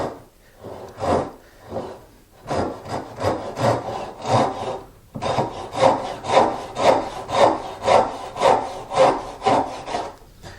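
Steady back-and-forth strokes of a hand saw cutting wood, close and rhythmic, briefly pausing before resuming at a regular pace.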